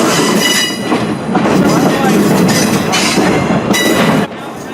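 A train rolls along the rails leaving the yard on opening day, loud and close, with a steady rumbling roar, rhythmic wheel clatter and brief metallic squeals before the noise drops off.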